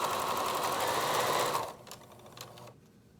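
A sewing machine stitches elastic into a fabric face mask, running steadily and loudly for about a second and a half before stopping, followed by a few faint clicks and handling noises.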